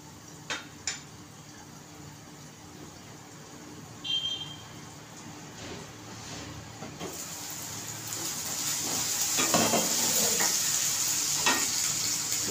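Chopped tomatoes dropped into a hot pan for a spicy dry matki bhaji, soft clinks of a spoon on the pan early on, then a sizzling hiss that grows louder and steadier as they fry and are stirred.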